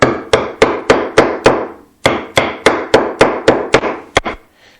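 Pine block struck with a hammer to seat a brass back onto a backsaw, a steady series of about fifteen sharp, loud, close wooden knocks in two runs with a short pause between, ending in a quick double tap.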